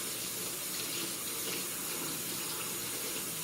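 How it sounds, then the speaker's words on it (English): Cold or warm water runs steadily from a kitchen tap into a sink while items are rinsed, a continuous broadband splashing gush filling the whole clip with no talk over it. "I just want cold or warm water, and that's what I do, just rinse them"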